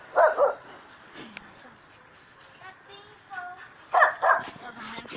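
A dog barks in two short double bursts a few seconds apart, fairly close and sharp, with quieter household sounds and faint talk in between.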